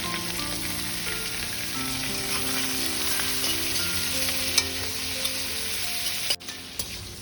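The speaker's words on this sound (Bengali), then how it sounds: "ডিমের তেলটাই আমি চিংড়ি মাছগুলো দিয়ে দিচ্ছি। এইগুলো হালকা করে ভেজে নেব, খুব হালকা করে।" Shrimp fry lightly in hot oil in a pan for chow mein, giving a steady close sizzle with soft crackles and a few small clinks near the end. No one speaks.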